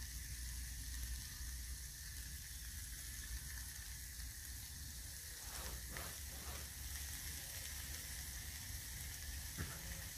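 Gammon steak and sausage sizzle in a pan outdoors, a steady, close, continuous frying hiss with a few brief crackles and spits, no talking.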